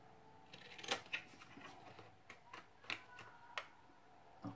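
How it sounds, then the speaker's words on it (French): Pinking shears snipping through fabric and paper pouches, a series of quiet, crisp cuts at an irregular pace, close and faint, with no talk. "de ciseaux cranteurs."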